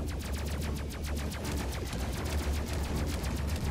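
Rapid, continuous gunfire from gunners in the video game Space Crew, dense overlapping bursts at steady high loudness throughout with no pauses.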